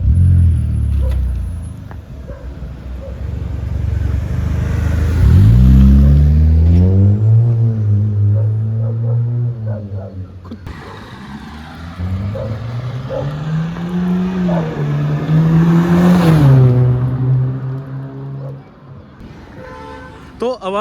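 A Hyundai Verna fitted with an aftermarket exhaust revs and pulls away, its engine rising and falling in two long drone-like sweeps, loud and close, with a brief pause between them.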